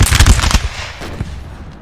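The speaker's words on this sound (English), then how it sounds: "the French are now going to be like just putting withering fire onto this Russian line" A volley of musket fire rattles out from a French line of infantry in Napoleon: Total War, loud overlapping cracks bunched in the first half-second, followed by a few scattered later shots and a fading echo.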